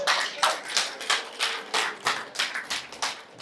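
An audience claps in rhythmic unison, about a dozen crisp, evenly spaced claps heard close and fairly soft with no talking.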